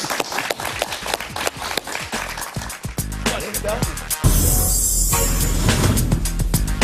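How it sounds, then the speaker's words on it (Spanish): Studio audience applause breaks out on a talk show, a dense wash of clapping that swells and holds steady at close range, mixed with voices and scattered cheers throughout. "Un aplauso para él."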